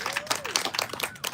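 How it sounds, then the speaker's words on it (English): Audience at a poetry festival in Paterson claps briefly, a quick patter of scattered hand claps mixed with crowd murmur and faint voices nearby. "Clap it up for the Paterson Poetry Festival"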